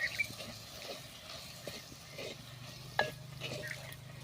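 Ground sesame and crushed peanut sauté in oil for an old-style Maharashtrian vegetable dish, soft sizzling under a few spatula scrapes and light clinks against the pan, quiet and close, with one sharper knock near the end.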